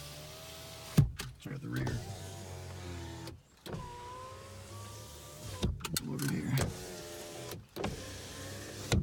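Power windows on a car go up and down in turn, each motor giving a steady whining hum with thumps as the glass stops; someone talks briefly between runs.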